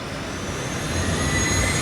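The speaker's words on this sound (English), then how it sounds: "So we've got this American Airlines flight making its way around onto the runway." A model American Airlines jet takes off at a miniature airport exhibit in New York, giving a steady, loud jet-engine roar that builds slightly and continues without pause.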